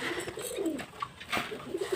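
Pigeons coo in several soft, rolling calls while feeding from a box, with faint background noise and no talking.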